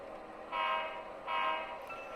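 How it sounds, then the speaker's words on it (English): Two short horn blasts from a model train on a switching layout, a pause between them, with the steady hum of the engine underneath. "we're going to blow our whistle signal"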